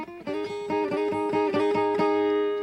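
An electric guitar plays the opening lick of a song in A pentatonic, a quick run of bright repeated double-stop attacks in a steady rhythm, close and clear with no talking.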